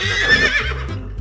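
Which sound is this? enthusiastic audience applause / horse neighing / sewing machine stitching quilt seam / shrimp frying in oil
horse neighing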